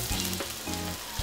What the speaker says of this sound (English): Then you'll need to heat some oil in a frying pan, about 2 tablespoons. Then add the ginger and cook for about a minute.